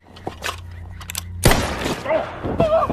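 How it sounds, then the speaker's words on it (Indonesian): A sharp, loud gunshot cracks out after quieter rustling and faint sounds, followed by echoing noise and brief muffled voices. "ia lagi-lagi melepaskan tembakan yang tepat di kepala Clarice"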